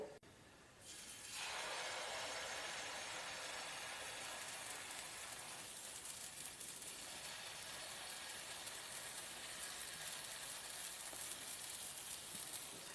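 Dosa batter hits a hot oiled tawa with a sudden onset of steady, bright sizzling hiss that continues evenly and fairly quietly, with no talk over it.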